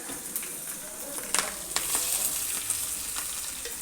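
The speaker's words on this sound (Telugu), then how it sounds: "ధనియాలు, జీలకర్ర, ఎండుమిర్చి, పచ్చిమిర్చి ఈ విధంగా చిన్న బాణలు పెట్టుకొని దోరగా వేయించుకోవాలి." Coriander seeds, cumin, dry red chillies and green chillies dry-roasting in a small pan give a steady soft sizzle and crackle, with scattered pops and light stirring scrapes throughout.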